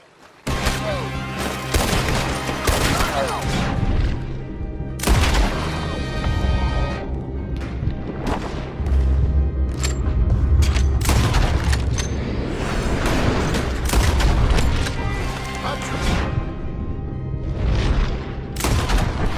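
Gunfire in the Red Dead Redemption 2 prologue as a farm is attacked: rapid, dense volleys of shots and booming impacts, loud and continuous with crashing bursts, no talking.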